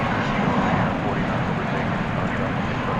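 American Airlines Airbus A321neo jet at Dallas Fort Worth airport, a continuous loud roar of engines with a rushing broadband texture, steady throughout.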